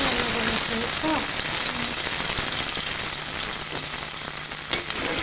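Cauliflower stems fry in a pan with a steady, dense crackling sizzle close by, and a faint voice is briefly heard near the start.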